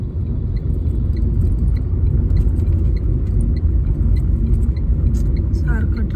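Steady low road rumble of traffic on the way to the Bhimthadi Jatra fair, a continuous engine drone with a few faint clicks and jingles. A brief rising sound lands near the end.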